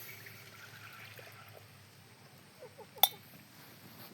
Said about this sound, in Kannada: ಒಂದು ಕಪ್ ಹಾಲು ತೋರಿ